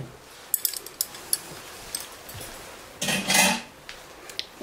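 Chocolate lava cake batter being mixed in a bowl, light clicks and taps of the utensil against the bowl with a brief louder scraping burst near the end, close and without talk.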